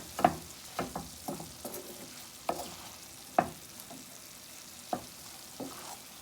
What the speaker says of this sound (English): I just added my pepper, garlic, and onion, and we will mix.